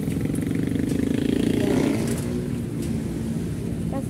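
A motorcycle engine rumbles steadily and loudly up close, with a low throbbing idle and faint voices underneath.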